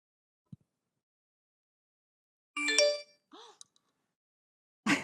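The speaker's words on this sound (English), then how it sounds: "I just got a notification from Pet Patrol." A phone app notification chime sounds once, a short bright tonal ding standing alone in near silence, with a few faint clicks before and after.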